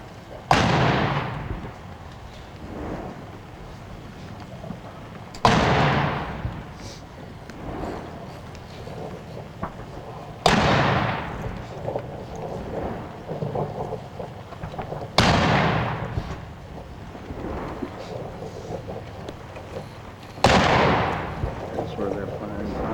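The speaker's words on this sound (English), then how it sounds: "Those are cannons." Cannons fire at a WWII battle 50th anniversary commemoration in Europe, five heavy booming blasts spaced about five seconds apart, each rolling off into a long echoing decay, with faint crowd murmur between shots.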